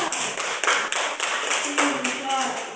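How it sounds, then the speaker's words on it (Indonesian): Children in a classroom clap their hands for a classmate named Faisal, a steady run of fairly close, sharp claps with a few voices mixed in. "tepuk tangan buat Faisal"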